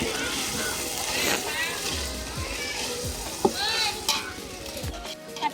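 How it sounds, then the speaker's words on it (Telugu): Country chicken sizzles and is stirred in a pot over a wood-fired stove, a steady frying hiss with scraping and clinking of utensils and occasional splashes, while people talk nearby. "నాటుకోడి చికెన్ కట్టెల పొయ్యి మీద వంట చేస్తున్నాం"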